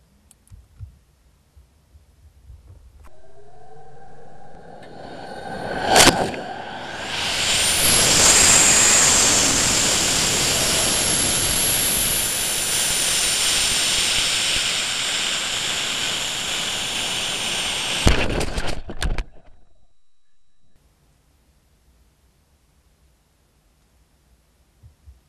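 A model rocket launches with a sharp crack, then a loud broadband roar of motor thrust holds steady for about twelve seconds before cutting off abruptly, leaving quiet outdoor ambience.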